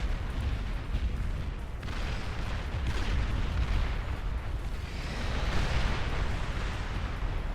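Heavy rumbling booms and blasts from bomb explosions in the strategy video game Beyond All Reason, a dense continuous roar of battle without pauses, loud throughout with swells of louder detonations.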